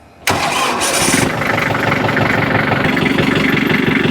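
An old hay tractor's engine cranks and catches abruptly, then settles straight into a loud, steady, rumbling idle that runs on evenly and close by, with no speech.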